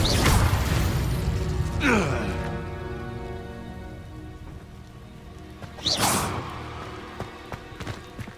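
Spells cast in Hogwarts Legacy burst out as loud whooshing blasts and crackling impacts, one near the start, a sweeping one around two seconds and another sharp flare near six seconds, over constant rumbling game noise.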